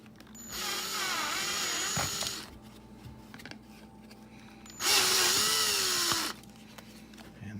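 A power drill with a 3/16 bit widening holes in a miniature's base, two separate whirring bursts of about two and one and a half seconds each, close by, with quiet pauses between.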